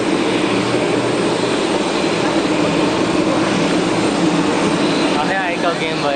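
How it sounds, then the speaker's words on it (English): Airport ambience with a steady roar of aircraft engine noise filling the space, loud and continuous throughout, with a faint voice underneath. "This is the airport."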